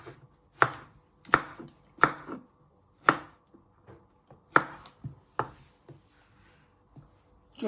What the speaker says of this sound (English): You first chop them in half, and you want to finally slice them into little pieces.